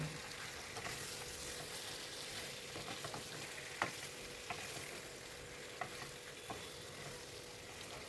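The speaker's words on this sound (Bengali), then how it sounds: "এরপরে ম্যারিনেট করে রাখা চিকেনটা কড়াইয়ে তেল গরম করে দুই পিঠ হালকা লাল করে ভেজে তুলে রাখব" Marinated chicken frying in hot oil in a wok, giving a steady, close sizzle that runs throughout, with occasional sharp clicks and scrapes from turning the pieces.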